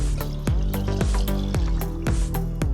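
Water being stirred into thick curd to thin it for a homemade plant remedy, giving a run of wet sloshing splashes and plops in a quick uneven rhythm, close and fairly loud with no talking.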